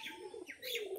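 Pigeons cooing close by in a short, low, warbling call with softer chirps, without any voices.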